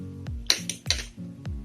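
A metal spoon clinking against glasses in a school biology germination experiment, a few sharp, bright taps spaced irregularly over a low background hum, close and fairly quiet.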